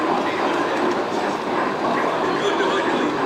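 A model railway train runs past on an exhibition layout, a dense rolling rumble under the chatter of a crowded hall, with a dog barking somewhere.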